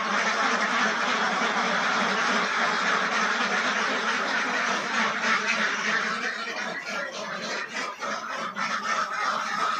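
Farm ducks quacking in a dense, overlapping chorus, loud and close, continuing steadily for several seconds before thinning slightly toward the end.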